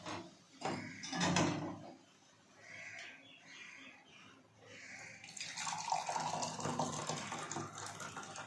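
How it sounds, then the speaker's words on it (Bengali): Black liquor tea is poured out, making a steady, moderately loud liquid stream that builds in the second half after a few quieter clinks and rustles. No one speaks. "লিকার চাটা ঢেলে নিই আগে।"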